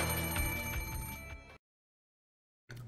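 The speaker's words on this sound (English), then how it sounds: "The phone rang out noisily." A telephone in the Rose Guns Days video game rings with a steady, trilling electronic ring that cuts off abruptly, followed by silence, then a short burst of the ring again.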